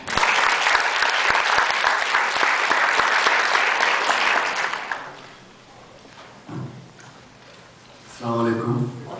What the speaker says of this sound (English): I'd like to give a round of applause to Arshad Madeen.